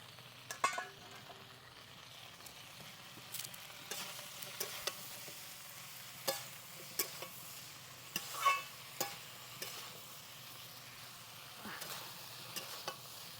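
Ginger-cumin paste and sprinkled chilli frying and being stirred in a pan for a rohu fish and drumstick curry: a faint steady sizzle broken by irregular scraping and clinking stirring strokes, with no talk.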